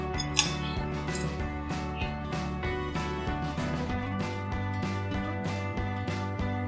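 Metal spoon stirring a sabudana mixture seasoned with fasting salt, crushed black pepper and lemon juice in a metal bowl: steady clinking and scraping strokes up close, alone over a constant background tone.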